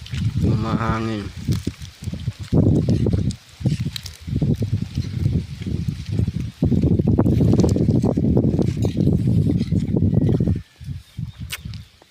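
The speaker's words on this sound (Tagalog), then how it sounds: "Mahangin." Strong gusty wind on a mountaintop buffets the microphone in heavy rumbling bursts, with someone talking between and over the gusts.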